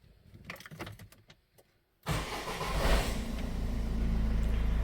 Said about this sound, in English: Now we start the vehicle.